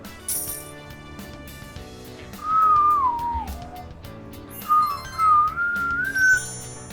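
A person whistles a wavering, sliding tune in two bursts, first descending then rising, over quiet background music and game sounds in Persona 3 Reload.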